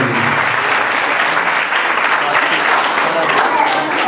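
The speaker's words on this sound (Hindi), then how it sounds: "हम पुरजोर तालियों के साथ" A church congregation bursts into loud, sustained applause during a Christian fasting sermon, dense clapping filling the hall at a steady level throughout.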